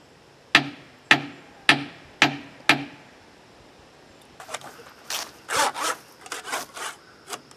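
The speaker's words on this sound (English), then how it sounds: "Found a nice thin saw and I'm just trying to cut through the gasket as deep as I can" A thin hand saw cutting into an engine head gasket, five sharp evenly spaced strokes followed by a quick burst of shorter rasping scrapes, close and distinct.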